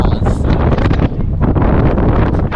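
Heavy wind buffets the microphone during a parkrun, producing loud, continuous rumbling gusts that fluctuate throughout with no clear voices.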